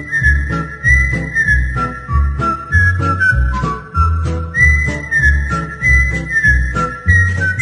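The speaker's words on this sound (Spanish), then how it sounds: "Cantando y silbando." A young man whistles a cheerful, tuneful melody while cutting the grass in a large garden. The whistling is clear and continuous, with steady rhythmic accompaniment beneath it.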